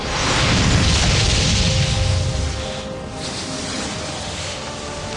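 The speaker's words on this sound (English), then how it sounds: "an explosion of white light engulfed the battlefield" A broad, loud explosive boom from the Icewind Dale: Enhanced game intro, a roaring wash of noise that holds for a few seconds then eases into a softer sustained rush.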